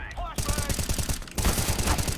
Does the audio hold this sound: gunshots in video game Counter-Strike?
yes